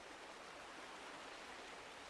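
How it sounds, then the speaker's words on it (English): A creek in Red Dead Redemption 2 splashes between rocks and tumbles down shelf to shelf, a steady, dense rushing wash of water without pause. "you see all the water just splashing in between all the rocks, coming down shelf to shelf"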